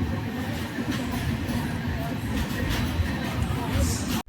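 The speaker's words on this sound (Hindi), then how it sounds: "दोस्तों ट्रेन आ चुकी है अपनी मथुरा जंक्शन स्टेशन के ऊपर।" The Taj Express has arrived at Mathura Junction station, and a low, steady rumble of the train and platform fills the clip, with faint crowd noise and no clear speech.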